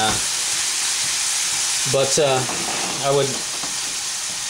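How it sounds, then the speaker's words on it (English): Steady loud sizzling of hamburger meat frying in a pan, a constant crackling hiss with a voice speaking briefly over it. "I would be frying up my hamburger just like this, and you can see the grease"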